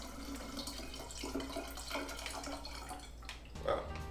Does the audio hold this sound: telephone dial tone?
no